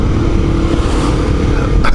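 A small, noisy Honda motorcycle rides on an open road toward Sittingbourne, its engine giving a steady, close, rough drone with constant road and wind rush throughout.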